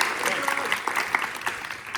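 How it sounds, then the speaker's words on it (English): Audience applause at a high school improv match between Kamiak and Bothell, steady clapping from a crowd filling the room for two seconds, with some voices mixed in. "that's the end of the applause"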